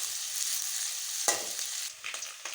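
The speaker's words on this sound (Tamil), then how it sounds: "வெங்காயம் பாருங்கள், இந்த அளவுக்கு வதங்கினா போதும்." Onions sautéing in a pan for an egg rice dish, a steady close sizzle with a few scraping stirs of the spatula.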